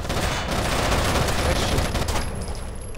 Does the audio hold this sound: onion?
no